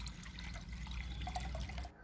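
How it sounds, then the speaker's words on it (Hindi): Water splashes and trickles steadily into a bowl for a couple of seconds, fairly quiet and close, with no talking. "अब हम एक बाउल में पानी डाल रहे हैं।"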